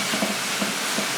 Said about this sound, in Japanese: 鍋で一気に炒めちゃってます